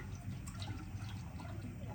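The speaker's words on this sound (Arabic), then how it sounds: "نخففه ويا المي ونصبه مثل ما هسه صبيناه على شكل خيط رفيع لحد ما ينزل كله" Diluted starch water pours in a thin, steady stream into syrup while halqum sweets are being made, a soft continuous trickle heard faintly and close up.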